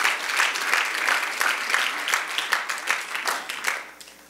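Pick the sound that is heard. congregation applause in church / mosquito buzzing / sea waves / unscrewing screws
congregation applause in church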